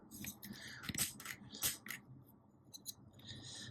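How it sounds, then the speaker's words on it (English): Small plastic upgrade part on a toy, from the DNA Designs DK-65 upgrade set for the MPG-09 transforming robot figure, clicking into position with a few sharp close clicks and light scraping handling noise, quiet and without talk. "That's a good clicking sound"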